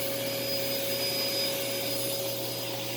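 Sanyo SC30 vacuum cleaner running steadily with a motor whine, a constant broadband roar carrying a thin high-pitched tone, close and unchanging, with no voices.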